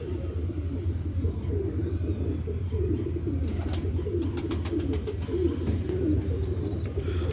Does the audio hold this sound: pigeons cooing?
yes